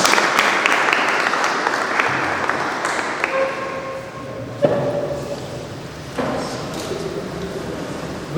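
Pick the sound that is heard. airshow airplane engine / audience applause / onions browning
audience applause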